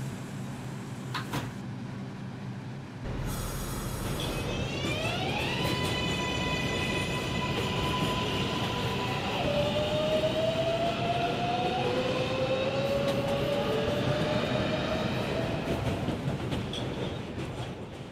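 A New York City subway 6 local train runs on the rails with steady rumbling and clickety-clack, loud and continuous. Rising and falling electric motor whines sweep across the run, and a brief door or car rattle comes near the start.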